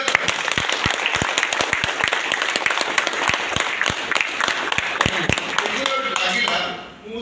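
An audience bursts into loud applause at a public gathering, with dense, rapid clapping and distinct sharp claps close by. The sound holds steady before dipping and trailing off at the end.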